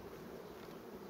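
A steady, close honey bee buzz, droning continuously without pause.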